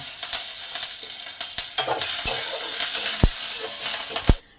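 Curry leaves hit hot oil with fried dal, chili and cumin, setting off a loud crackling sizzle with scattered pops and stirring clicks, close up, before cutting out.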